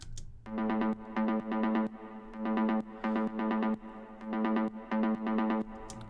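Synth 1, a staccato synth preset in an Ableton Live peak-time techno track, plays a repeating pattern of short, bright, buzzy stabs on one pitch. The bursts come in groups with brief gaps between them, loud and alone.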